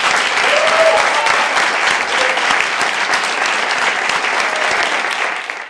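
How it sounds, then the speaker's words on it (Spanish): A comedy or theater audience breaks into loud, steady applause to welcome a speaker, dense clapping sustained for several seconds before tapering at the end. "Así que fuerte el aplauso"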